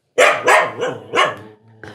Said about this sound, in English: Please don't bark.